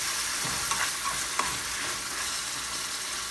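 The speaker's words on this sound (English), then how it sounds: "it's been frying in the oil for about 6 minutes" Chicken curry ingredients frying in hot oil in a pan, a steady close sizzle with a couple of soft stirring knocks, no voices.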